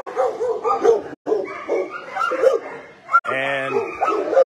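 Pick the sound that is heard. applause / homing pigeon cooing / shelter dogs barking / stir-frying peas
shelter dogs barking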